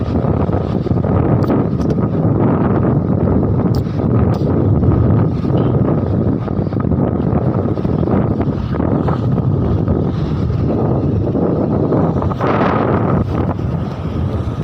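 Strong wind roars across the microphone on a seaside beach, a loud, continuous buffeting rush with waves churning underneath and no voices.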